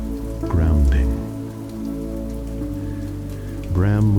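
Rain falls on a window in a steady soft patter, with faint tonal sounds and low thuds rising and fading in the background; no voices are heard.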